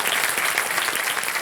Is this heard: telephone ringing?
no